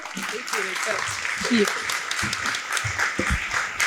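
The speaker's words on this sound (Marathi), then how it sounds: "जोरदार टाळ्या होऊन जाऊ देत." At a children's drama camp, scattered clapping from a small audience greets a child and runs steadily under someone speaking over it, close and moderately loud.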